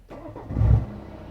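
A BMW F30 320d diesel engine cranks and catches after a push-button start, a brief low rumble that rises to a short surge and then settles, heard close up from the cabin.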